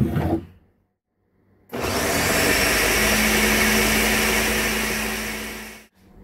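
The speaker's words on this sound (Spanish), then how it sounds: "ya aquí ya licué todos mis ingredientes" An electric blender whirs loudly and steadily for several seconds blending whipping cream, cherries and sugar, starting abruptly after a short quiet pause and cutting off at the end.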